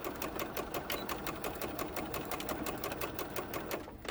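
Sewing machine stitching elastic for a scrunchie, running in a steady rapid rhythm of needle strokes, going forward and back over the same spot, close and alone for the whole stretch.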